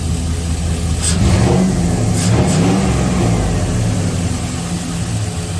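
A 6.0 LS V8 engine, freshly fitted with new rod bearings, idles nearby with a deep, lumpy rumble, a couple of brief revs standing out early before it settles back to a steady burble.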